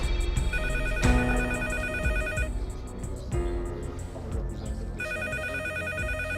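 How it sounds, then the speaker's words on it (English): A telephone rings in rapid electronic bursts, loud and close, with the trilling tone stopping briefly and then starting again, heard alone with no speech. "While the police were still there, the phone rang"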